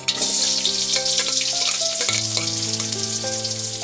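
Onion frying in hot oil with mustard seeds and cumin for a curd gravy, with a loud, dense, continuous sizzle close up over background music and no voices.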